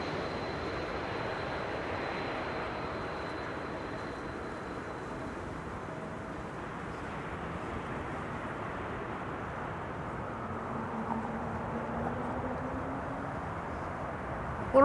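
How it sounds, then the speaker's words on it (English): An Icelandair Boeing 757 jet arriving from Reykjavik at Schiphol produces a steady, distant engine roar that stays even throughout with no talk. "757 Icelandair, flight 500, arriving from Reykjavik in Iceland"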